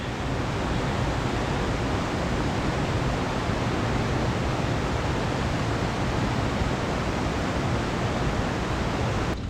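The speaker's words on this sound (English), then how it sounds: "We're in the final push up the waterfall." A rushing waterfall on the Sky Pond trail in Rocky Mountain National Park roars as a loud, steady, unbroken wash of noise, with no voices.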